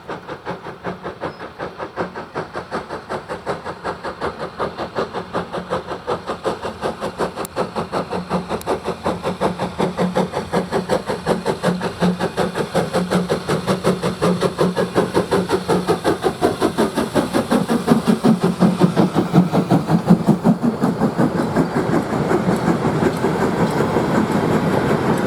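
A preserved steam locomotive, 52044, climbs away from Oakworth on the Keighley and Worth Valley Railway hauling a pickup goods train. Rhythmic exhaust beats pulse steadily under wheel clatter, growing slightly louder as it works uphill, with no voices.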